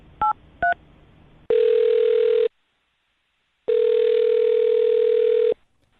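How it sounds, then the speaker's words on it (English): A telephone gives two short dialing tones, then a long steady ringback tone, a pause, and a second long tone, with no one talking over them. "I'm going to dial her phone number right now"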